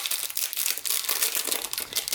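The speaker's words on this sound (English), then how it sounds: "Let me take this plastic off" Clear plastic wrapping peeled off an unboxed Heidi Swapp Memory Dex card kit, giving steady close crinkling and crackling that runs unbroken for about two seconds, with no talk.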